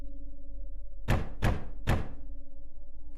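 A stuck door being forced in a horror video game: three heavy thuds in quick succession, close and loud over a steady low hum, with no talking.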